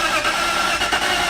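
Car engine catching and running right after fuel is added during restoration of a first car with throttle body trouble, a steady loud idle filling the short moment alone.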